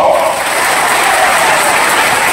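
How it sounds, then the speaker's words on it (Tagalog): Dense, steady applause from a church congregation honouring the Catholic Church, a continuous wash of clapping hands filling the room without a break. "Atong hatagan o pasigabong palakpak ang simbahan ng Katoliko."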